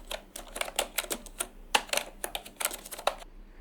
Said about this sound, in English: in the address bar, type typingmaster.com and press enter